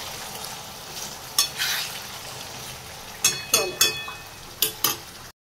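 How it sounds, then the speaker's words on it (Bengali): Whole cumin seeds crackle and sizzle in hot mustard oil, a steady frying hiss broken by several sharp pops and stirring clatters, mostly toward the end; a voice may briefly speak over it. "এই তেলের মধ্যে, সর্ষের তেলের মধ্যে গোটা জিরে ফোড়ন দিয়ে দিলাম।"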